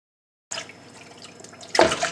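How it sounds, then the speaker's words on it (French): Water poured into a cooking pot to make fish stock, entering as a steady running splash that swells louder near the end, with no talking. "Et ensuite, je vais mettre mes 3 litres d'eau."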